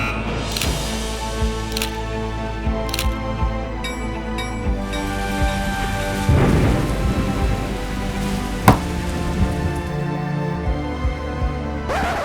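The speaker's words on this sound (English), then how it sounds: "Storm Hans has brought more than thunder and lightning as it sweeps through northern Europe." Thunderstorm from Storm Hans sweeping through northern Europe, with steady rain and a few sharp cracks and rumbles of thunder over a constant loud wash of sound, no voices.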